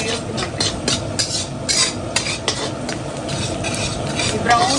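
Onions browned in a pan with leftover mutton boti curry added, frying and being stirred, with steady sizzle broken by repeated scraping strokes of a spoon against the pan.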